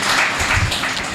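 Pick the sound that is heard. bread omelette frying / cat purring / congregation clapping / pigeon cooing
congregation clapping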